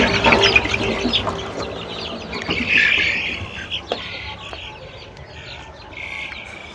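Several chickens cluck and chatter close by, with soft bird chirps mixed in over a low farmyard background.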